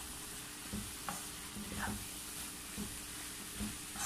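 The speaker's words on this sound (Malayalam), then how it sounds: "നമുക്കിനി ഇത് ഒന്ന് രണ്ട് മിനിറ്റ് കൂടി ഒന്ന് ഇളക്കി കൊടുക്കാം." Ash gourd stir fry, Kerala style, being stirred in a pan: a faint, continuous sizzle under repeated light scrapes and taps of a spoon against the pan.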